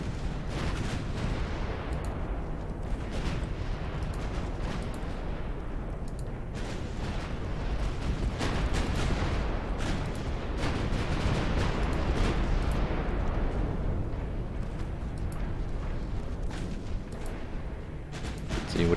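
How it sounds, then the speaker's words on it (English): Naval gunfire in the Ultimate Admiral Dreadnoughts game, a 1900 British campaign battle, with dense overlapping booms and rumbling cannon blasts rolling continuously at steady loudness for the whole stretch, no talk. "Gunning down their battleships."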